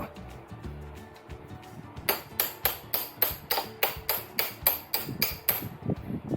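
Steady metallic hammer taps on a Honda CB500X motorcycle front fork axle, about a dozen in a regular rhythm, ringing sharply close by after a quieter opening of faint clatter.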